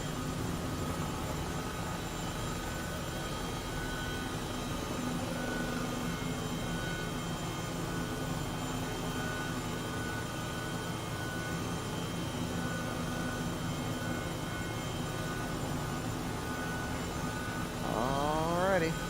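An H135 medical helicopter descends in Microsoft Flight Simulator, a steady droning rotor and turbine hum holding throughout, with faint talk beneath and a brief warbling tone near the end.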